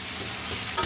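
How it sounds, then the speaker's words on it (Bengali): Leafy greens with onion, chilli, turmeric and salt sizzle and frying in a pan while being stirred, a steady close hiss with a brief scrape of the spoon near the end. "সব দিয়ে ভালো করে একটু কষিয়ে নেবো ভাজা ভাজা করবো"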